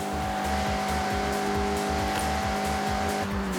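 Mazda MX-5 cornering hard in the Forza Horizon 6 racing game, a pulsing, buzzing engine note held under load while a steady tyre squeal runs across the whole stretch.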